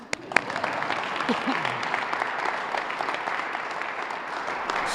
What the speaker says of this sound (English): We can applaud them, no?